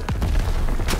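Grenade blast inside a bunker in the video game Call of Duty WWII, a short booming burst with a low rumble and a sharp crack near the end.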